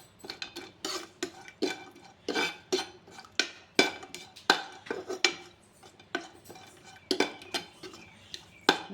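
Cashews are stirred and fried in a metal pan, a metal spoon scraping and clinking against the pan in quick irregular strokes, close and crisp, with no talk.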